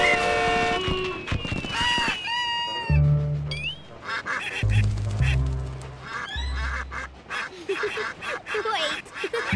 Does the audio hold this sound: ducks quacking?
yes